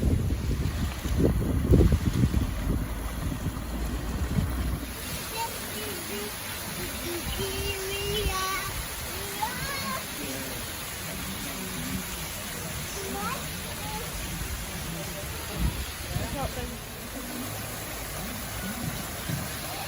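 Running water in the Ventnor water gardens on the Isle of Wight, a steady close rush and splash heard outdoors under wind buffeting on the microphone, with a voice speaking over it.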